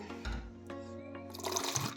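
Water poured into a Dettol mixture in a home kitchen, a steady running pour that grows brighter and splashier toward the end, close and clear with no talking.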